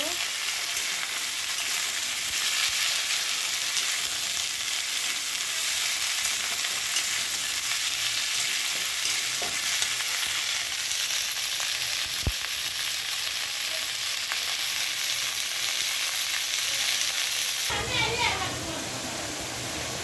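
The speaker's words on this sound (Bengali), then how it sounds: "এখানে আলু আর কপি ভেজে নিচ্ছি, ভালো করে ভেজে নিতে হবে।" Potatoes and cauliflower fry in a pan, giving a steady, loud sizzle that runs unbroken throughout, with the sound shifting briefly near the end as the food is stirred.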